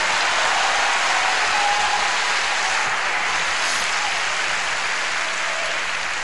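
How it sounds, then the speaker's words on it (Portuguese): Dense, continuous applause from a large congregation at an evening church service, loud and steady throughout with no voices rising above it. "Aplauda ao Senhor mesmo"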